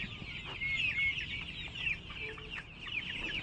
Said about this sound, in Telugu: ఇవి కడక్నాథ్ కోడి పిల్లలు.